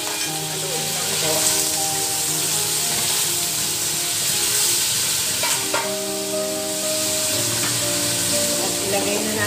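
Squash fries with three spoonfuls of fish sauce in a pan while being stirred, producing a steady, close hissing sizzle with occasional scraping and bubbling, and faint tones in the background.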